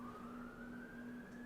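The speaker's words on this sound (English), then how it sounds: "I'm recording and there's fucking sirens going off" Emergency vehicle sirens wail outside, a faint, distant steady tone slowly rising in pitch over a low background hum.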